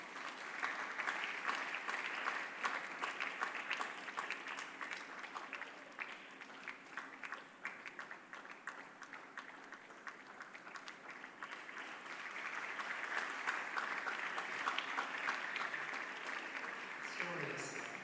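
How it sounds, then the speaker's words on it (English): A tech summit audience keeps clapping for a long stretch, a dense, continuous wash of hands that dips slightly midway then swells again, with faint voices mixed underneath. "Can you keep clapping to encourage him?"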